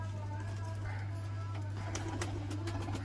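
Teddy pigeons, flying-breed birds kept in a loft, coo softly in a low steady hum alongside brief chirpy calls, with faint background murmur and scattered clicks.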